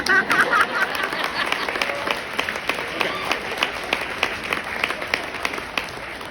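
A crowd at a motivational talk gives a round of applause, a rolling patter of many hands that is strongest at the start, then continues moderately with a murmur of voices underneath.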